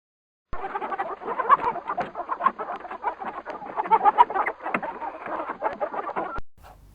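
A hen clucking in a dense run of short, busy calls over several seconds, fairly loud and close, with no talk over it.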